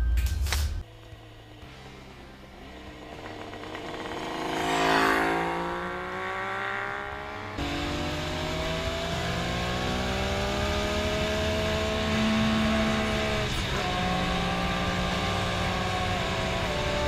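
1971 Kawasaki H1 motorcycle engine running close by, a loud steady two-stroke drone with a rising rev around five seconds and sustained engine tones throughout.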